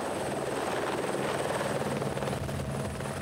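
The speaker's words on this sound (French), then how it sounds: "L'hélicoptère entame ses rotations." A helicopter ferrying supplies and staff to high mountain huts in the Hautes-Alpes drones continuously with a steady rotor chop and engine roar, loud and sustained throughout without speech.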